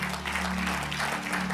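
A church congregation clapping at an Indonesian evangelical service, a brief, even patter of many hands under a sustained low organ or keyboard drone, moderately loud and continuous.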